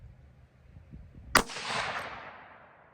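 A Ruger American Gen 2 rifle chambered in .204 Ruger fires one sharp, loud shot at a target, followed by a short decaying echo in open air.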